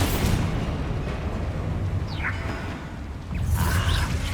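Confringo spell blast in Hogwarts Legacy, a loud fiery burst with a whooshing rumble that settles, then flares again into a second burst near the end amid combat effects.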